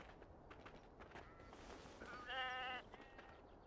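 A single sheep bleats in the video game Beyond: Two Souls, a clear wavering cry lasting about half a second, set against quiet ambient game background with soft rustling and footstep-like sounds.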